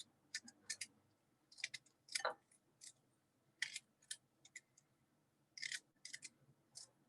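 Fresh ginger peeled with a small spoon in a home kitchen, a series of faint, short scraping clicks in irregular bursts, fairly close with no talking over them.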